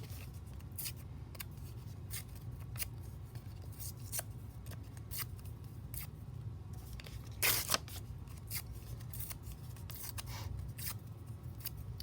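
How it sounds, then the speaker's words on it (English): White paper being ripped by hand into many little pieces, a series of short dry tearing strokes repeating through the stretch with one louder, fuller rip midway, close and alone over a low steady hum. "ripping up our pieces of white paper"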